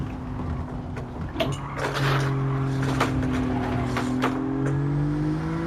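An Alfa Romeo Giulia GTAm in Gran Turismo 7 holds a steady, droning engine note that climbs slowly in pitch as it accelerates, loud and close, with a brief sharp knock near the start and no talking.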